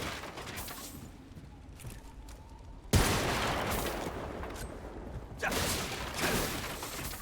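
Gunfire crackles in Remnant: From the Ashes, a sharp shot kicking off sustained bursts of rapid shooting with whooshes, fairly loud and close, following a quieter opening stretch.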